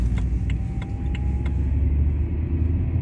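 Steady low engine rumble and road drone fill a car's cabin during a short morning commute, constant and moderately loud, with a few faint light clicks near the start and no talking.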